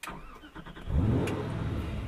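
A Ford GT engine cranks briefly and catches, then settles into a steady, rumbling idle close by.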